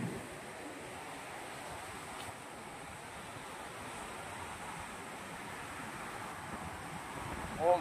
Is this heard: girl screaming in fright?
no